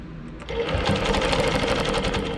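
A longarm quilting machine stitches steadily through a quilt along a seam line, a close, continuous rapid mechanical whir with a fast rhythmic needle pulse starting after a brief quieter moment.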